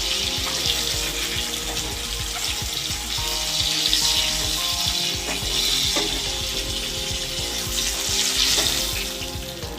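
Pieces of Bhola fish fry in hot oil with a loud, steady crackling sizzle, broken by clinks and scrapes as the fish is lifted out.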